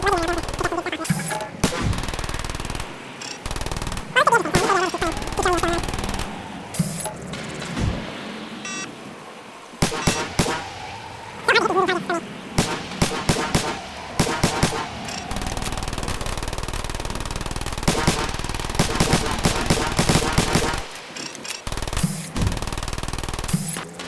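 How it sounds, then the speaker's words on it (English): Machine gun in Fallout 4 rattling off in long and short bursts of rapid gunfire, loud and close, broken by brief pauses and mixed with game effects. "My machine gun will help me kill it."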